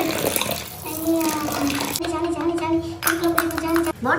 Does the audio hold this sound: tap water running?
yes